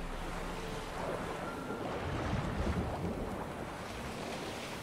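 Bubbly, sloshing water heard while sailing a boat in the video game Witcher 3, a steady wash of wave and wind noise with a low churning rumble rising slightly midway, continuous with no talk.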